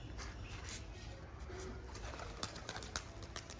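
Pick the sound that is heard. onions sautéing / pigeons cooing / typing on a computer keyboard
pigeons cooing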